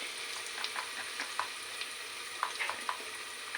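Spices fry in a hot pan for khichdi: a steady close sizzle, with scattered small clicks and scrapes from stirring.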